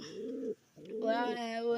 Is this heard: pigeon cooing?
yes